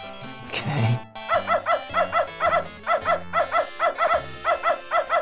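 A dog in the sci-fi adventure game Beneath a Steel Sky gives a long howl, then barks in a steady repeating rhythm of close, loud yelps with no one speaking.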